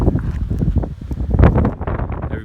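Strong wind buffets a staked-down tent high on a mountain in the Roan Highlands along the Appalachian Trail, a steady rough roar with gusting flaps and fabric rattles, loud and close throughout with no voices.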